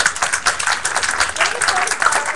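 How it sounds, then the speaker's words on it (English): An audience claps and applauds at a technology conference opening keynote, a dense, steady burst of hand claps filling the room. "Give a little"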